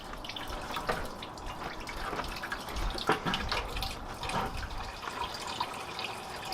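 Coolant draining out of the radiator of a 1966 Ford F250 with a 352 engine, a steady trickling, splashing flow with scattered drips, moderately close and continuous without any talk.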